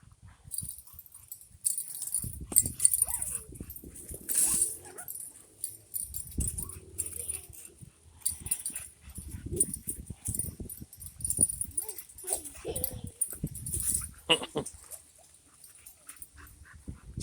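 A pit bull and a puppy play chase around a yard, with scattered scuffles, paw movement and brief soft whimpers at moderate distance, plus occasional faint jingling and intermittent human voices.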